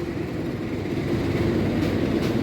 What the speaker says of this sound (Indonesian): Kereta api Jayabaya